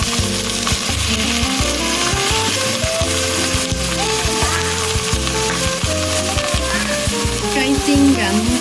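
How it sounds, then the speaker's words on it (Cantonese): Chicken legs frying skin-side down in hot oil in a wok, a loud continuous sizzle and crackle close up, with a rhythmic low thumping underneath and no speech. "雞煎緊"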